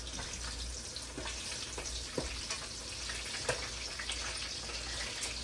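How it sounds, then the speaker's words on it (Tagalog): Squash simmering in coconut milk crackles and spatters steadily in a pan for the whole stretch, with a few sharper pops standing out above the continuous sizzle. "Talsik-talsik na siya eh."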